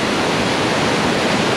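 A waterfall throws off spray in a steady, loud, broadband roar of rushing water, close and unbroken, with no voices over it.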